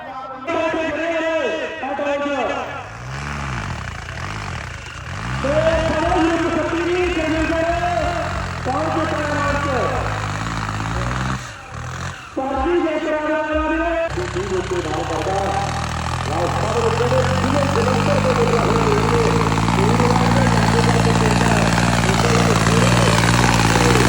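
A tractor engine revs hard in a village trolley-pulling contest at Nandpur, Punjab. Its pitch swells and falls in repeated surges, then holds a loud, steady roar under a voice talking.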